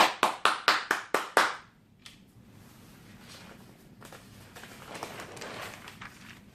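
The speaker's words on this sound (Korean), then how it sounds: "박수를 보냅니다." A handful of sharp, evenly spaced claps ring out close and loud, about seven in quick succession, then stop abruptly, leaving a quiet low rustle behind.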